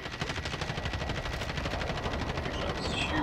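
Automatic gunfire in a video game, likely from an M16: rapid, evenly spaced shots in a continuous sustained burst, loud and close, with no pauses.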